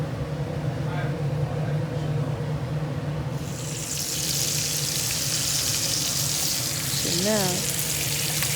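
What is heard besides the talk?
steak searing in pan with butter, garlic and thyme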